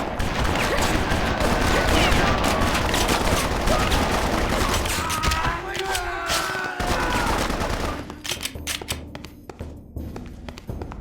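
Soldiers open fire in Bloodrayne: ReVamped, a dense fusillade of rapid gunshots and machine-gun bursts pounding steadily for most of the stretch, then thinning into scattered shots and thuds near the end.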